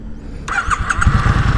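A vintage RS motorcycle is started for a test ride: a brief starter whine catches into a loud, close, uneven idle that burbles steadily with no talking.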